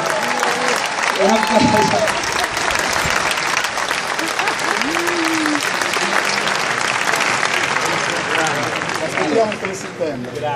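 An audience at an Italian event honoring Carlo Verdone breaks into sustained, loud applause, dense clapping that carries on steadily with a few voices and cheers mixed in.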